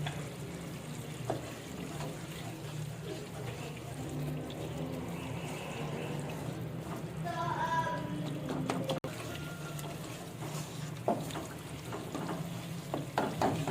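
Masala for matar pulao being sautéed in a pot over a medium flame, steady low sizzling with stirring and scraping sounds, a brief clink partway through.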